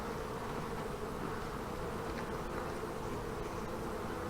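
A swarm of honey bees in an old hive gives a dense, continuous buzzing drone, close and steady throughout, with no voices.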